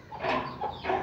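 Aseel chickens clucking close by, a few short throaty calls in quick succession with no talking.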